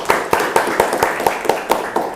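A class of students claps hands in a quick, regular rhythm, about nine sharp claps in two seconds, close and loud in a room.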